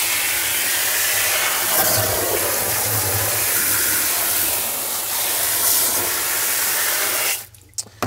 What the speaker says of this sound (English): I'm just rinsing all the construction debris out of this waterfall filter before I add the media